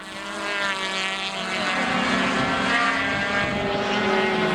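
An SCCA June Sprints race car at Road America roars past down the straightaway, its engine note loud and close, rising and shifting in pitch as it passes, with no talking.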